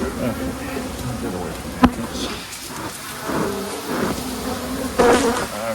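Agitated honeybees buzz densely around an opened hive brood chamber, a close, continuous swarm drone with a sharp knock partway through and a brief spoken word.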